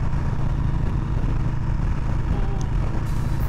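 A Harley-Davidson Softail Street Bob motorcycle's 107 engine idles steadily up close, a deep, even rumble with a low throbbing pulse and no voices.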